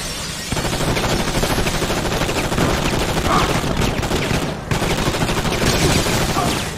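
Continuous rapid gunfire from the 2003 video game Enter the Matrix, a loud dense barrage of shots running almost nonstop with one brief break.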